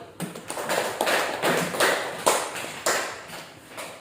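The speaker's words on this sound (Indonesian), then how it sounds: "Aplaus untuk kelompok 1." Classroom applause for a student group, a burst of clapping hands from a room of students that swells and continues steadily with uneven rhythm for several seconds.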